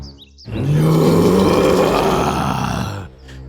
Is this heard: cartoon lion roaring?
yes